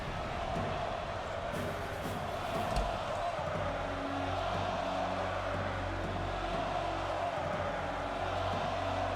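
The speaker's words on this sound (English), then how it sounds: "Crowd already chanting his name before he's even made it to the arena" Wrestling crowd in an arena at an IPW event, a steady roar of many voices with a rhythmic chant running through it, sustained and moderately loud throughout.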